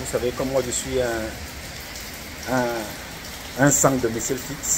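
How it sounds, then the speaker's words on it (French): Rain falling on a city street, a steady light patter running beneath someone speaking French close to the microphone. "partager cet espace-là avec vous, cet instant de pluie, il pleut partout là"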